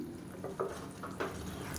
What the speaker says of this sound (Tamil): நல்லா சூடு பண்ணி வச்சுருக்கிற தண்ணியை சேர்த்துக்கலாம்